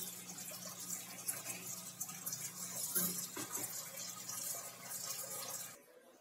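Soaked sabudana (tapioca pearls) are washed in water, making soft, continuous splashing and swishing that stays fairly faint and close, then stops abruptly at the end.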